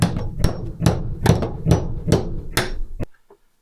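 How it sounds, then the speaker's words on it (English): A hammer drives a nail through for passing a wire, seven sharp, evenly spaced strikes about half a second apart, close and loud, ending in silence. "I'll take this nail and I'll tap it through"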